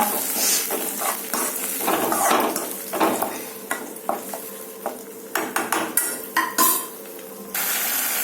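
Tomato paste sizzles in oil in a pan as a utensil scrapes and stirs, with clinking taps against the metal at an irregular pace.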